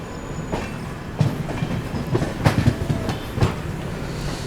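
A New Delhi-Howrah Rajdhani Express train runs at speed near Kanpur Central station, giving a steady rumbling roar with several sharp clickety-clack wheel beats and rail knocks spaced irregularly through it.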